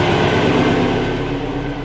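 Air-cooled engine of a VW T2 Bay Window camper idling at about 1,000 rpm after being started on a project restoration, a loud, steady low rumble with constant mechanical clatter heard close up, with no talking.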